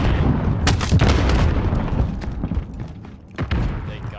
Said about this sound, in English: Shotgun with a sniper scope and slugs.